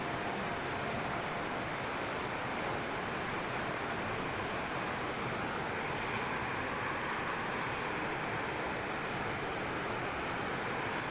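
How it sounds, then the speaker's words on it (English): Steady rushing water tumbling over rocks in a park, a constant broadband roar with no pauses, close and fairly loud. "It's so peaceful just listening to the water going over the rocks."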